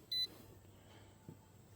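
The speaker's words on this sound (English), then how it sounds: "as you can hear it beep there" A single short electronic beep near the start as a tow mirror's electrical connector is plugged in, followed by quiet background and a faint click.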